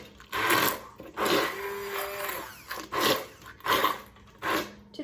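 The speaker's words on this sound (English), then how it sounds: "So I'm using my immersion blender to mix it up." Immersion blender whirring in bursts through thick persimmon butter brought to a boil, about five short pulses with brief pauses between, each a loud close motor whine with sloshing, one burst holding a steadier hum.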